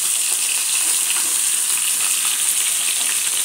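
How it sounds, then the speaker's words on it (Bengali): Constant, loud crackling sizzle of fish frying in hot oil, steady throughout with tiny pops scattered across it. "এখন মাছটা ভেজে নিচ্ছি"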